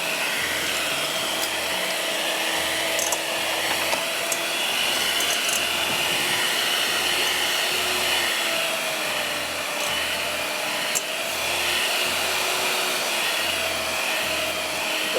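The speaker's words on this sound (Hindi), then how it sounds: "इसको मुझे इतना बीट करना है कि ये बिल्कुल स्टिफ हो जाए" An electric hand beater whips chocolate cupcake mixture in a bowl until stiff, giving a steady, loud motor whir with a faint rhythmic pulsing that runs throughout, with no talk over it.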